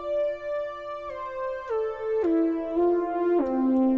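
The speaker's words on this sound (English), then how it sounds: "you can see that sound is coming from the Hybrid 64 plugin" A Moog-style synthesizer preset from the Hybrid 64 plugin plays alone, a bright sustained tone stepping down through several pitches in a slow descending line with clean, buzzy harmonics.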